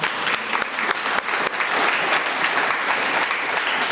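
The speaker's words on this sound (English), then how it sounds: "round of applause for the entire committee" A room full of people claps for a committee, an even, sustained round of applause with a few louder individual claps near the start.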